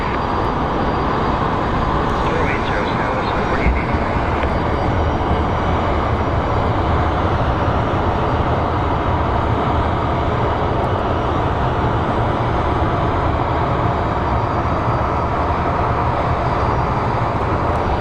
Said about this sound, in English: another plane is coming in for taxiing over the bridge